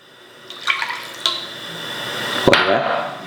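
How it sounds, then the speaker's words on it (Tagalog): Water poured into a pan of squid being cooked for sizzling pusit, a few splashy clinks and a short pouring gush near the end, close and moderately loud. "Ilalagay ko din tubig."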